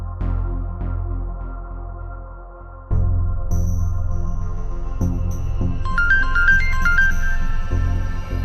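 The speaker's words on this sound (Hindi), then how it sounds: "क्या हुआ अहमद, फोन क्या उठा नहीं रही?" A phone ringing in a home scene of a Pakistani drama, a repeating electronic ringtone melody over a low musical score, steady and clear with no talk.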